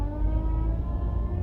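A car engine idles low and steady while reversing slowly down a driveway, rumbling with a slight revving hum, close by and continuous.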